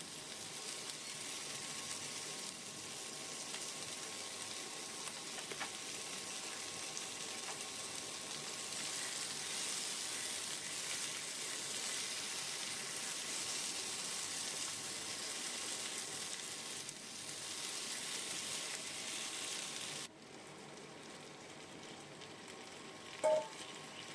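Capsicum frying in a pan while cooking chili chicken, a soft continuous sizzle at low level, steady for about twenty seconds before dropping off, followed by a single faint click near the end.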